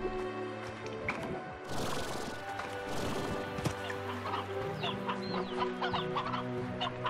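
Hens clucking in the video game Slime Rancher, a steady run of clucks and fowl chatter over a busy background of game music and effects, with no talk.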